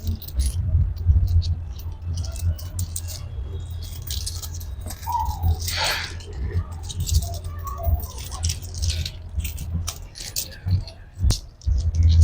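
Shilling coins rattling and jangling as a piggy bank is handled and emptied, close metallic clinks and shakes in uneven bursts with brief murmured talk.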